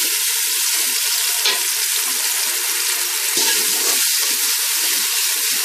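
Onions fry in a pan with spice paste in a home kitchen, giving a loud, steady, close sizzle that runs the whole time, with faint stirring scrapes now and then and no talk.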